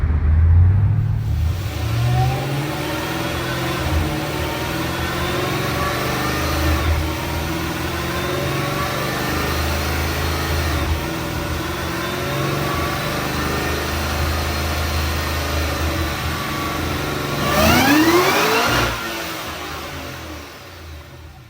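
Cadillac engine making about 750 hp, strapped to a dyno and running on E85, revs hard and holds a loud, steady roar for most of the run. Near the end it sweeps up sharply in pitch, then eases off.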